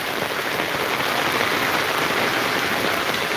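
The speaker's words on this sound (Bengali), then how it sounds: "এই বৃষ্টির মধ্যে এখন মোটামুটি জটিল একটা বৃষ্টি" Steady, heavy rain drums on an umbrella held overhead, a dense, unbroken roar of drops close by with no voices.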